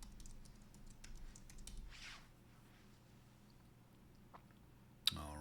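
Fingers type a password on a computer keyboard, producing a few soft, quick key clicks close by in a quiet room, ending with one sharper keystroke.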